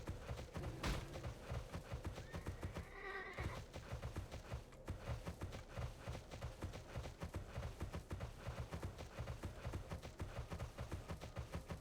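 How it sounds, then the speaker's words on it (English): Horse hooves in a video game clip-clopping in a steady, quick rhythm throughout, with a brief whinny early on, soft and somewhat distant. "Yes, you're on a horse."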